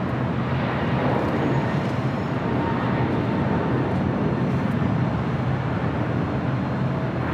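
An American Airlines jet rolling for takeoff on runway 25 right at LAX, a loud, steady broadband engine roar that holds constant throughout.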